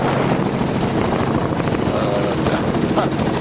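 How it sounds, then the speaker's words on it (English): Helicopter flying, heard from inside or close by as a loud, continuous rotor thrum with a rapid pulsing chop that dominates throughout. "Oh, this helicopter is so maneuverable."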